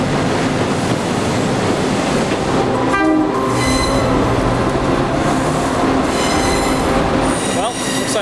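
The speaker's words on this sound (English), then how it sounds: "I missed the train." A train passes loudly and close on the rails in Taiwan, giving a steady heavy rumble with wheel squeal and bright tonal whines. A horn-like note and metallic screeches rise partway through, with no talk.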